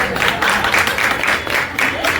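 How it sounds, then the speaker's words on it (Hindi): A crowd claps and cheers in steady waves, loud and close, with no voices talking over it. "ताली बजाइए जोर से।"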